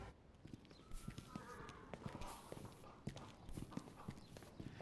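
Horses' hooves clip-clop in a steady irregular rhythm of many hoof strikes, fairly close and crisp, with faint voices in the background.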